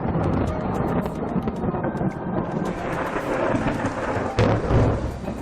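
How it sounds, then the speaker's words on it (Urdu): Thunder from a heavy thunderstorm with lightning in Tharparkar, rolling and rumbling loudly and close throughout, with steady rain hissing underneath and wind buffeting the microphone, no voices. "بادلوں کی گرج کی آواز"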